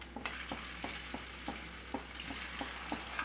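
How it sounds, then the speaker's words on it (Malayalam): Chicken pieces frying in a pan, with a steady close sizzle of hot oil and regular soft ticks and pops from stirring, continuous throughout with no voices. "എല്ലാം നമുക്കിതുപോലെ തന്നെ ഒന്ന് ഫ്രൈ ചെയ്തെടുക്കാം."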